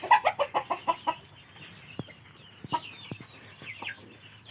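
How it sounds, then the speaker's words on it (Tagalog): Heritage breed hens such as Buff Orpington, Black Australorp and Rhode Island, kept free-range on a farm, cluck in a quick rhythmic burst followed by scattered softer clucks and calls, close and fairly quiet. "So yan ang ating mga alagang manok dito sa farm."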